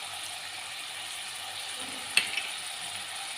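Tomatoes cooking in a pan with salt, turmeric and dry spices give a faint, steady sizzle, with a couple of brief clicks partway through and no talking.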